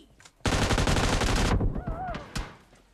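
A burst of rapid automatic gunfire in PUBG Mobile rattles loudly for about a second, followed by a few scattered, quieter single shots.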